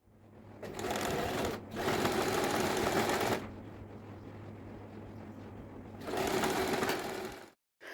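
A sewing machine stitching fabric for a purse made from an old kurti runs in three loud, close bursts of rapid whirring, the middle one longest, with quieter pauses between them and a sudden stop at the end.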